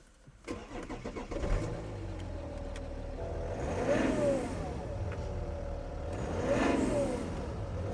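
A 3-litre BMW engine with about 115,000 miles on it cranks, catches and settles into a steady idle, then swells in two gentle revs. The engine is heard close and alone, with no voices.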